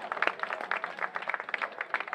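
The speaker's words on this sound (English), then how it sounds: "Give a round of applause for Kendall and Trey." Scattered, fairly faint applause at a college baseball game, with irregular claps from a modest crowd heard at a distance.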